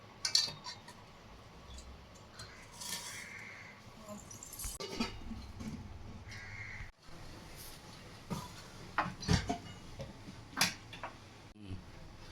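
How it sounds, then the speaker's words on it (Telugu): Faint metallic clinks and knocks of a metal bowl being set down inside a rice cooker pot, with scattered scrapes against quiet room noise. "ఇప్పుడు ఈ గిన్నె ఇందులో పెట్టేద్దాం"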